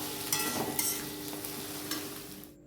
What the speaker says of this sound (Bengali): তেল ছেড়ে দিয়েছে, চাল কুমড়োটা আমার রেডি,